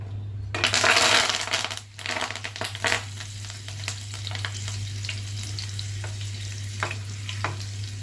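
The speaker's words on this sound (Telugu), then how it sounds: "కరేపాకు వేసుకుందాం కొద్దిగా పైనుంచి డెకరేషన్ కోసం" Curry leaves dropped into hot oil for aloo bajji, giving a loud burst of crackling sizzle that settles into steady frying with occasional stirring clicks over a low hum.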